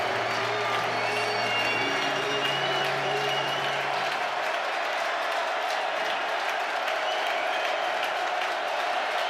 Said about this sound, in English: And now this crowd in Scott Stadium's getting into it.